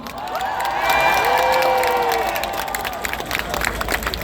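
A crowd at the Lille Pride march cheers and shouts with scattered clapping and whistles, loud and continuous at close range, with a voice ringing over the din.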